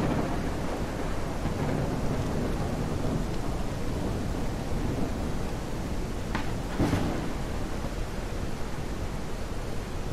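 Steady rain and rolling storm rumble from a thunderstorm in The Isle fill the scene continuously, with a brief sharper crack near the end; no one speaks.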